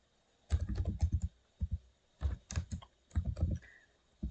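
C++ code is typed on a computer keyboard in close, clustered bursts of clicky keystrokes separated by short gaps.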